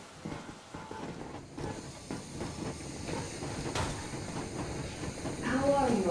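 Yermak steam train from Metro Exodus chugging along with steady hissing steam and rumbling rail noise, a brighter hiss swelling near the end.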